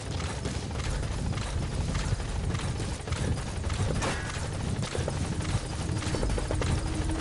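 A helicopter in the video game Metal Gear Solid whirs with a steady, choppy rotor thump, moderately loud and continuous throughout, with no talk over it.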